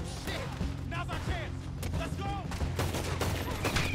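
Gunfire in Red Dead Redemption 2, a rapid run of shots and bursts popping over a dense game soundtrack, with a voice talking over the action.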